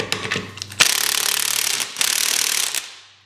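Wrench cranking down strut bolts on a 2001 Mazda Protege, a sustained rapid ratcheting rattle lasting a couple of seconds after some brief clicks, close and loud, then trailing off.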